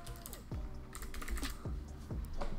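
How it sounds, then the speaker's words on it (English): A few quick keystrokes on a computer keyboard entering a word into a search box, soft clicks over a low electronic hum. "you want to type in Softaculous."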